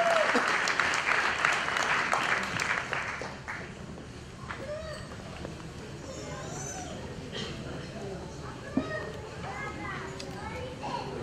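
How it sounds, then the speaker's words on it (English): Audience applause at a live evening dinner event for a Malayalam community, loud and dense for the first few seconds, then thinning into scattered claps and crowd murmur with voices talking throughout. "Another round of applause, ladies and gentlemen"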